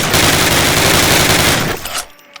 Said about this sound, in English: Fire 10 rounds at your target.